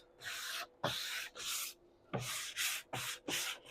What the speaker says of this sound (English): I would still knock down with the fine grit sanding sponge just to make your piece really smooth.